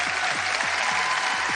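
An audience at a hypnosis stage show claps steadily and loudly, with a low repeating thump pulsing beneath the crowd's applause.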